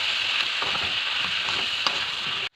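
Spiced fish mixture of ginger, green chilli, onion paste, turmeric, chilli powder, cumin and salt sizzles steadily in a pan while being stirred, with soft scraping strokes over a constant loud frying hiss that cuts off abruptly at the end.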